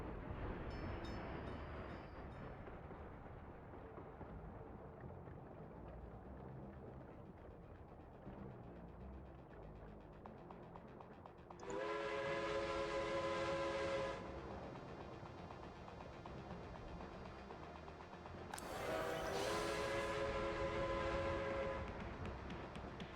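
Trains running in a railway-building video game set around 1900, a steady low rumble of rolling stock with two loud horn blasts standing out, with no talk over it.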